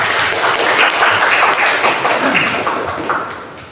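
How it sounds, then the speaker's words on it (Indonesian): A school class claps their hands together, loud and steady for several seconds, and the applause slowly tapers off at the end with no talking over it. "Yes, tepuk tangan kita semua."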